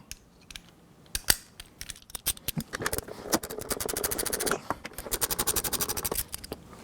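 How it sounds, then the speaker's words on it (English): A long-arm ratchet fitted with a 10 mm socket backs out seat screws on a Can-Am Spyder, giving quiet bursts of rapid clicking that start sparse, then run into dense, steady ratcheting near the tool. "The long arm, the ratchet."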